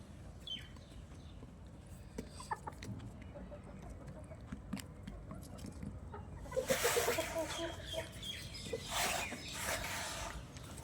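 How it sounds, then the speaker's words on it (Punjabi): Several farm chickens cluck softly nearby amid scattered pecking taps as they eat pieces of roti, then break into louder, busier clucking toward the end. "ਦੇਖੋ ਦੋਸਤੋ ਆਪਣੇ ਮੁਰਗੇ ਰੋਟੀਆਂ ਕਿੰਨੇ ਸ਼ੌਂਕ ਨਾਲ ਖਾ ਰਹੇ ਨੇ"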